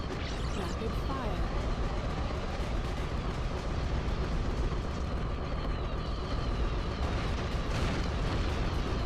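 Rapid-fire shooting in the video game I-Ninja produces a dense, continuous barrage of bursts and booms that stays loud and unbroken from start to finish.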